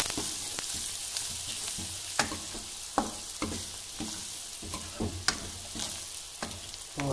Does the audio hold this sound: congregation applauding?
no